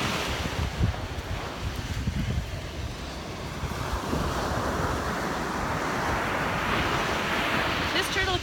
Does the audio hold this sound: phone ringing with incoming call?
no